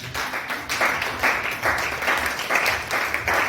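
A church congregation claps in praise, giving a dense, rhythmic wash of many hands beating in steady pulses about twice a second, loud and close.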